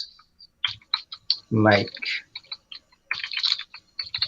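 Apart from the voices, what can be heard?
typing on a computer keyboard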